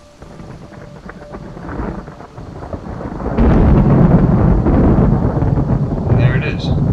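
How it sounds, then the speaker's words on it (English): Thunderstorm weather in the video game Skyrim: soft rain and wind that swell into a loud, long rolling peal of thunder rumbling on for several seconds, with a voice faintly talking early on. "It's supposed to be a natural sounding thunder."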